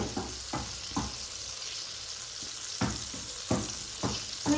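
Koi fish are added to a pan for tel koi, giving a low bubbling sizzle broken by several sharp clattering bursts as the pieces go in and get stirred.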